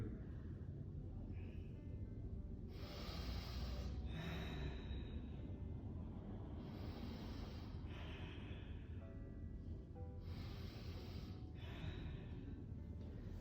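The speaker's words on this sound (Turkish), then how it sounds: "Bol bol nefes alıp veriyorum." Heavy, rhythmic breathing from someone doing stretching and twist exercises in a fat-burning workout, with several long exhale bursts repeating every couple of seconds over a steady low background hum.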